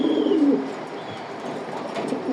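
A pair of club racing pigeons in a loft gives a brief low, rolling coo near the start, then soft ambient noise.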